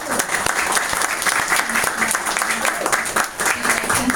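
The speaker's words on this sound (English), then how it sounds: "Please, a big round of applause." An audience at a car presentation in Miami Beach breaks into a full round of applause, dense clapping heard close and continuous throughout.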